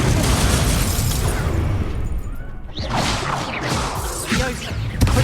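The Incendio fire spell is cast in Hogwarts Legacy amid dense, loud game action, with bursts, whooshes and booming blasts running throughout.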